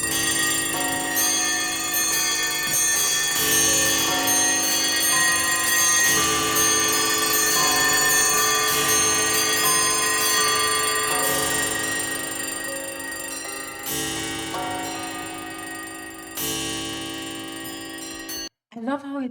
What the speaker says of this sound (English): I love how it's just all the clocks and all the alarm clocks and all the bells and all the things colliding together.